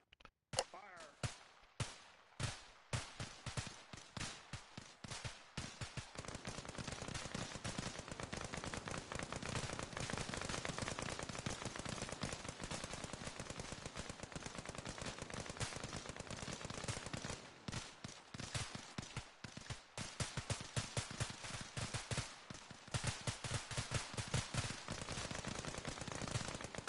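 Rifles fire on an outdoor shooting range as a squadron shoots on command, sharp cracks starting sparse then merging into a dense, continuous volley of overlapping shots for most of the stretch, with a brief lull before heavy firing resumes.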